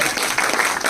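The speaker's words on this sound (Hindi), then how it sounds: "ताली तो बजा दो यार, बनती है" An audience claps its hands in a steady, dense burst of applause, loud and close throughout, with voices mixed in.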